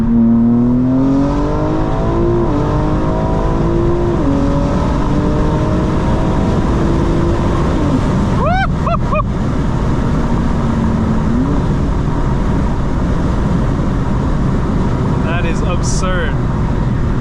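A 900hp 2025 BMW M4 Competition xDrive accelerates hard, its loud engine climbing in pitch through gear changes in a long sustained pull, with a voice talking underneath.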